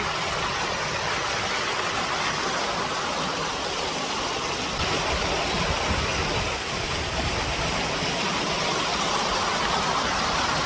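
Waterfall at Kulamav Dam pours with a steady, broadband roar of rushing water, loud and unbroken throughout with no voices.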